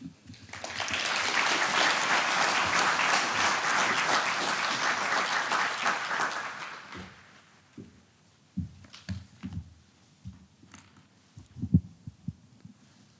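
Audience applause at a Policing Leadership Academy graduation ceremony welcoming a speaker, a broad sustained clapping from a large crowd lasting about six seconds before fading into scattered thumps and room noise.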